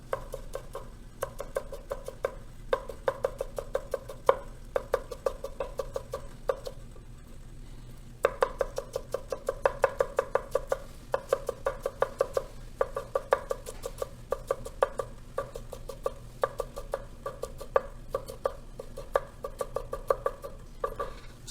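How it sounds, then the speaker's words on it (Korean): A kitchen knife taps rapidly and evenly on a cutting board, thinly julienning fresh ginger; crisp, close chops run in long bursts with a brief pause in the middle. "이제 요걸 칼 끝으로 이런 식으로 잘라주시면 되겠습니다."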